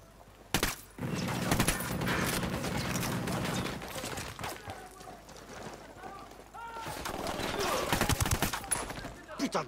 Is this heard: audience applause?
no